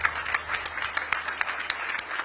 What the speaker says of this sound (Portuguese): Peço a salva de palmas, ela merece.